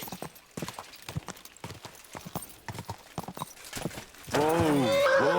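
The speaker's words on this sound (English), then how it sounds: "Beautiful horse." Rapid hoofbeats clatter in a steady gallop, then a loud, shrill horse neigh rises over them near the end, in the video game Kingdom Come: Deliverance II.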